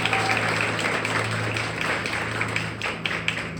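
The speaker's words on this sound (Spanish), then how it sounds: "¿Alguien puede aplaudir eso?" A church congregation applauds together, a dense, steady wash of many clapping hands filling the room without a break.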